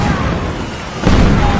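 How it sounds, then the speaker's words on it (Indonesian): Bombs explode in an action film rescue mission, heard as a heavy, rumbling low-end blast that surges suddenly midway and sustains loudly to the end over an already dense, noisy soundtrack. "beberapa bom meledak"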